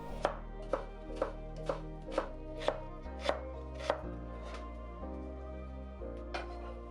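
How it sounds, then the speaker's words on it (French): A knife julienning a long white radish on a cutting board for pickles, made while preparing Vietnamese bun thit nuong: a steady run of crisp, evenly spaced chopping strikes, close and clear, with background music underneath. "nous allons préparer les pickles avec le navet long qu'il faut couper en julienne"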